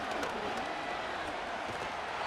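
A dense, steady roar of a stadium crowd fills a simulated Bengals versus Steelers football game, with broad sustained cheering.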